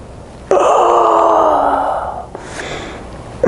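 A person in a relaxation exercise lets out a long, loud drawn-out yawn with a wavering vocal tone, followed by a softer breathy exhale, close up with no words.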